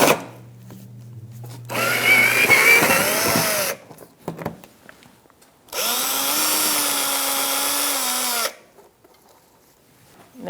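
A power tool whines through two long bursts while screws come out during a 2005-2010 Chrysler 300 5.7L V8 alternator replacement, loud and close, with short clicks and handling noises between.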